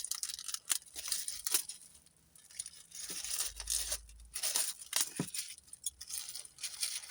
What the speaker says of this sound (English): A plastic bag.